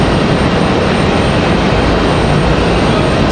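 An arriving airliner from JFK rumbles past as a dense, constant broadband roar, loud and close, with no voices.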